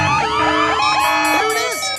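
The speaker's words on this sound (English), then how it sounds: "That's a 5-alarm alarm!" Wailing alarm siren sound effect with repeated rising and falling sweeps, loud and close, overlapping warbling tones layered together.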